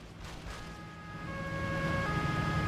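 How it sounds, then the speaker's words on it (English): A steady police siren tone from the game Crash Time 3 rises in over background noise and holds, growing slightly louder toward the end. "I'll turn on the sirens"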